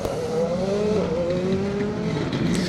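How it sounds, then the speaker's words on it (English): A Skoda rally car at Donington Park's circuit rally stage approaches the final hairpin, its engine a sustained droning note with a rising pitch, fairly close and steady. "Just listening out for the engine notes."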